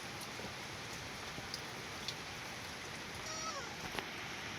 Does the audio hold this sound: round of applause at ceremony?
no